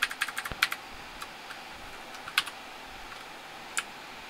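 Keys tap on a computer keyboard while commands are entered into a terminal on a Steam Deck, a quick cluster of clicks at first, then sparse single keystrokes with pauses, close and crisp.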